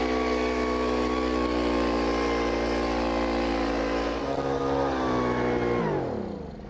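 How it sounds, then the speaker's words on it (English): A propane-powered leaf blower runs nearby with a steady, droning engine hum that holds constant, then drops in pitch as it winds down at the end. "This is a propane-powered blower."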